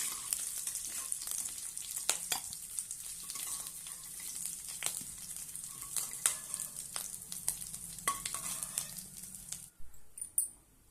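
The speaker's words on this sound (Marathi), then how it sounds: "आता आपले बटाटे फ्राय झालेले आहे" Potatoes frying in hot oil in a kadhai for dum aloo, a steady close sizzle with scattered crackles and pops, and no talk over it.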